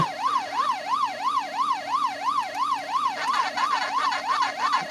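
A steady electronic wailing siren from the Pac-Man video game, played on a Toshiba Tecra 8100 laptop, rising and falling in a fast, regular cycle, loud and continuous with no voices.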